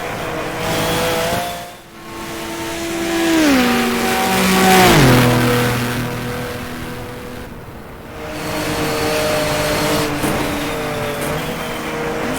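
Racing car engine in the rFactor sim, VLN Series 2005 car, revving loud and steady with clear gear-shift drops in pitch, following another car toward a corner.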